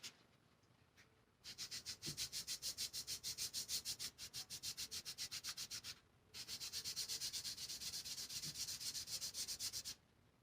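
Someone rubbing a slightly damp surface dry to clean it, two long runs of quick, evenly rhythmic back-and-forth strokes, close and fairly soft, separated by a short pause, with no talking.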